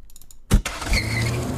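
A car door slams shut with a close thud, and then an engine starts and revs steadily as the car peels out, in a broadcast sound effect. Faint clicks come just before the slam.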